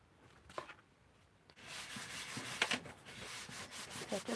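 A tool is rubbed steadily over cardstock while a handmade Mother's Day card is finished, a soft, close scraping texture that starts quietly and then runs continuously through most of the stretch.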